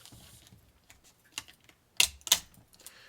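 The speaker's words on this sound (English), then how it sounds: "when you hear that little click, it usually means the film has released" Small mechanical clicks from inside a film camera as the film releases during winding, a few sharp ticks with two louder ones close together near the end, heard up close in a quiet room.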